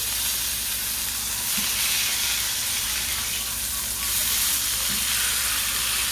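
Steaks sizzling loudly in a pan on a stovetop, a dense, continuous close-up hiss of frying that swells slightly at moments, with no talking.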